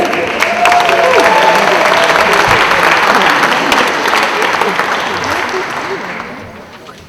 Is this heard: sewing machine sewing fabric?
no